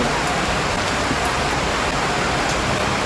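Steady rain falling, a dense continuous hiss without pauses, close and fairly loud, with no voices.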